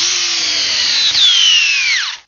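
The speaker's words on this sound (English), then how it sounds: "The Hercules, this is their brushed hammer drill." A Hercules brushed hammer drill running on a fully charged 5-amp-hour battery whines loudly and steadily up close, its pitch dipping as it loads, then winding down and stopping abruptly.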